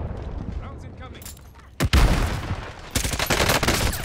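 Incoming artillery strike and gunfire in the video game Warzone: a sharp heavy blast near the middle, then a dense, loud stretch of rapid shots and explosions, with voices talking over the scene.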